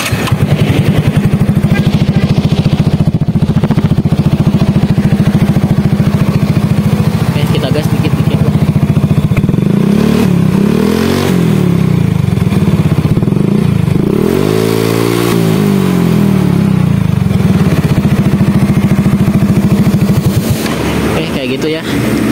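A Yamaha Mio motorcycle fitted with a ZRC aftermarket exhaust idles with a loud, steady putter close by, then gets two sharp throttle blips midway before settling back to idle.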